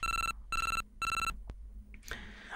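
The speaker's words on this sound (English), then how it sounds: "the phone is ringing." Phone ringing in a Game Boy bootleg game: three clean electronic ring bursts in even rhythm, then a click and a short noisy jingle.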